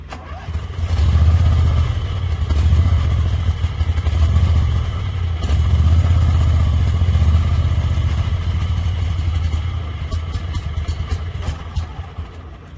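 A 2002 Dixon ZTR5017 Twin zero-turn mower engine turns over and settles into a loud, steady rumbling run that continues throughout, with a faint clatter near the end.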